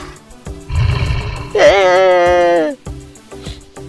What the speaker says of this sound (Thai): มันเป็นเสียงของแม่แมลงพวกนี้แน่เลย